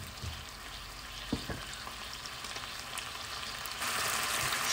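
Chicken escalopes fry in sunflower oil and butter in a pan, giving a steady low sizzle with a few soft clinks and shuffles, the hiss growing a little louder toward the end.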